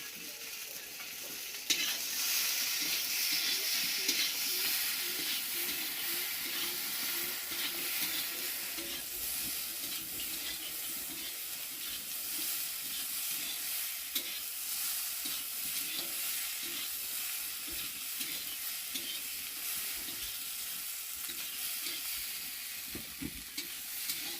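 Vegetables, green peas and ground spices frying in oil in a pan for shukto, with a continuous loud sizzle and frequent scraping stirs throughout.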